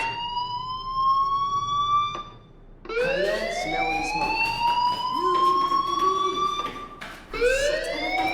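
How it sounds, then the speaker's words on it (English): A fire alarm wails in a loud rising-and-falling siren tone, sounding in repeated sweeping cycles with brief pauses between them. "do you hear that fire alarm? That means you should be outside."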